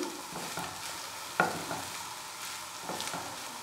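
Stuffed chicken onion rings cooking in a pan, giving off a quiet, steady sizzle with occasional stirring and one light clink, heard close and alone.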